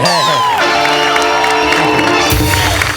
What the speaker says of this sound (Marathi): एकदा जोरदार टाळ्या जॉनी सरांसाठी झाला पाहिजे